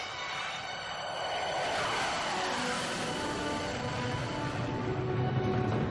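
A jet aircraft climbs just after takeoff with gear and flaps coming up, its broad roaring rush of engine noise filling the cabin at a steady, loud level with a slowly shifting whooshing tone.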